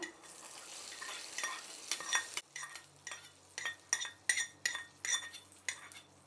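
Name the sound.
mixing tempering into curd rice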